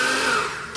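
A kitchen blender whirs loudly, close up, through chicken dish ingredients, its high motor whine dipping slightly as the load shifts, with no voices.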